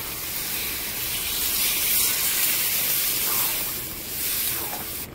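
Water poured into a hot pan of sizzling prawn curry releases a loud, steady hiss of steam and spray that swells and holds for several seconds, close by with no talk.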